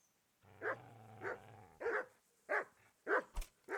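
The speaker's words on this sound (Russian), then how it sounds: "Собаки, не агритесь." Dogs in the video game Kingdom Come: Deliverance give a growl followed by a series of sharp, close barks at uneven intervals, with a brief thump near the end.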